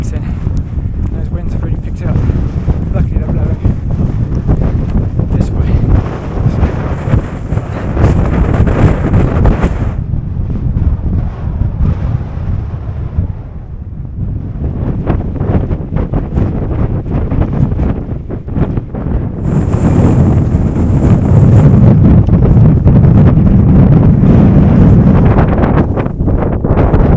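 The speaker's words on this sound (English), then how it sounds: "Those winds have really picked up." Strong gusting wind buffets the microphone on the exposed mountain summit of Cadair Berwyn in Wales, a continuous loud low roar that swells and eases, with a person talking over it at times.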